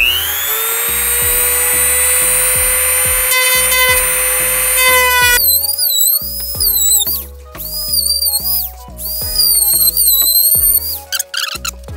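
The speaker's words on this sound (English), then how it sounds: "with a cutting wheel and very carefully cut a little bit wider than the marks you just made" A small cutting wheel grinds through a Seibon carbon fiber hood on a Honda Civic, a high whining tone that steps up and down as the tool bites and eases off in short bursts, close and loud, with no talking.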